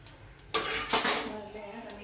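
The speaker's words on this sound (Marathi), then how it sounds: "असं तव्यावर मीठ टाकायचं आणि तांब्याने घ्यायच्या बारीक करून" A metal pot grinds and scrapes on a griddle as salt is crushed into fine grains. One sharp metallic contact is followed by a gritty rasping stroke lasting about a second and fading into softer scraping, close by.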